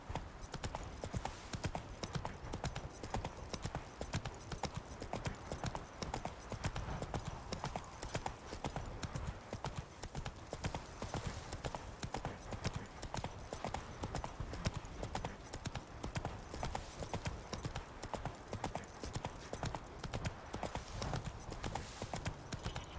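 Roach, the horse in The Witcher 3, gallops with a fast, unbroken rhythm of clip-clopping hoofbeats that runs evenly for a long stretch, close and loud over faint game ambience.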